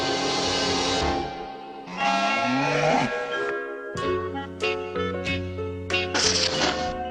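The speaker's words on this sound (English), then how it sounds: "The cattle are moving!" Cattle mooing: several long, low moos one after another, with a few sharp clanks and knocks mixed in nearby.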